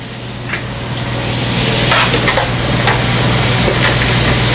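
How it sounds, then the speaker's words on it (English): Prosciutto and a large onion saute in butter in a hot pan, giving a loud, steady, close sizzle that builds slightly and carries faint stirring scrapes throughout. "I'm going to add that to the pan and saute that along with 1 large onion"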